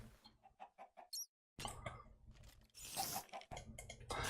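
Chickens in the game Minecraft, a series of short rhythmic clucks followed by a brief pause and then a busier stretch of clucking and scratchy game noise, fairly close and without talk.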